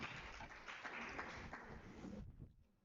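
Applause from a seminar audience for a panel of women leaders, a dense steady wash of clapping that carries on for over two seconds and then tails off quickly into quiet.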